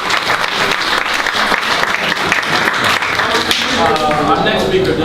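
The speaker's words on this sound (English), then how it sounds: "Let's give him another round of applause for that." Audience at a school library renovation event giving sustained loud applause, continuous close clapping throughout with a few voices rising near the end.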